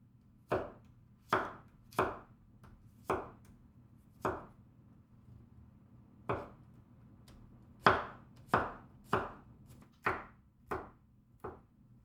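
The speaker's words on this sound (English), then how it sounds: "Next, I will mince the garlic." Garlic minced with a knife on a cutting board, about fourteen crisp, separate chops in an uneven rhythm, close and clear with a faint hum behind and no talking.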